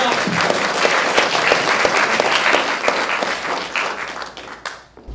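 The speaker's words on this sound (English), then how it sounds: "Let's clap louder than the first two times combined." A large audience applauds at the 2013 Youthee Awards ceremony: dense, steady clapping that stays loud for about five seconds, then thins and fades out near the end.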